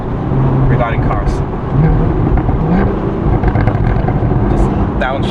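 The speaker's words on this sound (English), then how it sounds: "Just downshifts sound insane." A Porsche Boxster GTS 981 engine blips and revs through downshifts on a Black Forest road, a loud, continuous close-up engine roar with rising and falling pitch and wind rush, with a voice speaking over it.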